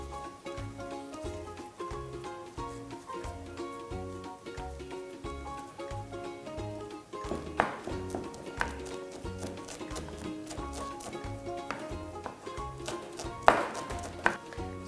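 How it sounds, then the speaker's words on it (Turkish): Fresh mint leaves being finely chopped with a knife on a cutting board, a fast steady rhythm of close, crisp taps, with background music and some louder, irregular strokes toward the end. "Ve nanelerimizi de yine aynı şekilde ince kıyım doğruyoruz."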